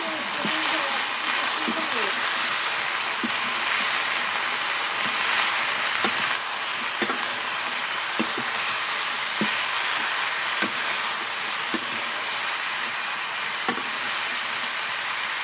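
Food with coriander powder fries in a pan with a steady broad hiss and sizzle, while a utensil clicks and scrapes now and then during stirring, heard close up.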